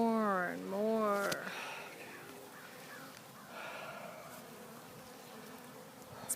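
A basketball-sized honey bee swarm clustered on a cedar tree buzzes in a continuous, fairly soft hum, with someone talking close by at the start before the drone carries on alone.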